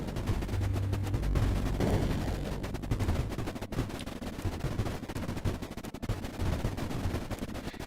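A Duster explosion in the Creeper World IXE video game sounds as a dense, continuous rumbling barrage of crackling blasts with sharp pops scattered throughout, loud and steady for several seconds.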